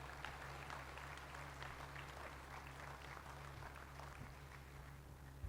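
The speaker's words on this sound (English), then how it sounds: "Let's give him a big round of applause." An annual meeting audience applauds the board chair, a faint, even patter of distant clapping over a steady low electrical hum.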